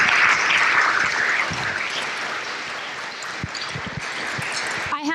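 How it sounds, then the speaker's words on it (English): Audience at an education talk gives the teachers a round of applause, strong sustained clapping that gradually fades, with a few voices and a brief noise at the end. "can we give an incredible round of applause to your teachers?"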